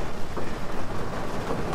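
Steady rain falling during a ride on a OneWheel Pint personal electric vehicle, a continuous broadband hiss with wind buffeting, loud and close throughout.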